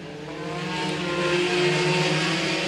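Front wheel drive race cars at Crossville Speedway growl and rev together as a heat race gets under way. Layered engine drones build steadily in loudness and hold strong, with no talking audible.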